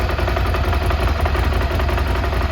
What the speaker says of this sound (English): This is my first time actually doing the cold start myself.